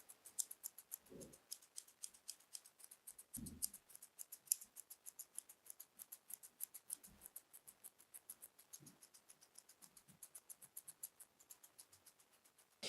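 Fine, smooth metal grooming scissors trim the hair on a poodle's foot, giving a quick, steady run of soft close-up snips with a few faint low thumps, and no one talks.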